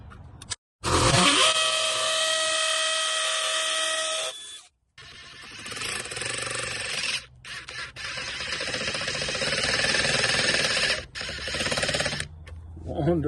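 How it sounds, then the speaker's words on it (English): A power drill re-drilling a mounting hole beside a pipe while a hose bib is being replaced, with several loud sustained whirring bursts separated by short pauses. "So let me re-drill that."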